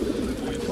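Racing pigeons cooing at a loft: a brief, soft, low throaty coo, faint and close.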